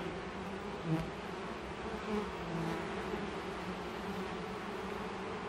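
Honeybees buzz steadily around an open beehive holding brood, eggs and honey, a dense, continuous drone close by with no speech over it.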